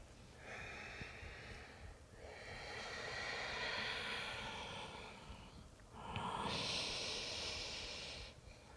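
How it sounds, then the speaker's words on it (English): Audible yoga breathing during a teen yoga class, slow loud breaths close by, each long airy inhale and exhale rushing steadily, repeated in a calm rhythm. "2 more times with the sound of your breath"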